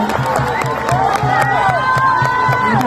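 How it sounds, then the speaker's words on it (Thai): Big crowd at the opening ceremony of Thailand's 38th National Youth Games in Nakhon Sawan cheers and applauds steadily, with whoops and shouts rising over continuous clapping throughout. "ขอเสียงปรบมือเป็นกำลังใจให้กับ นักกีฬาวิ่งพบเพลิงทั้ง5คนอีกครั้งครับ"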